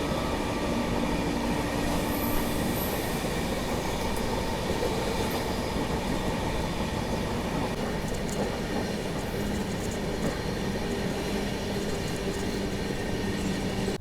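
Inside the Kushinagar Express, a superfast train running on an Indian railway, a loud, constant rumble of wheels on track carries on steadily with faint rattles, no voices.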